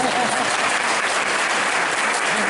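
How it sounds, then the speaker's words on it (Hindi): An audience claps hands together at a religious discourse, dense continuous applause from many people, loud and even throughout. "ताली बजाओ।"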